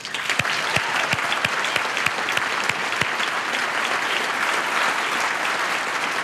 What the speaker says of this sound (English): please join me in giving them one last round of applause